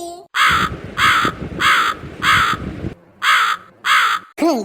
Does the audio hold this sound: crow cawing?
yes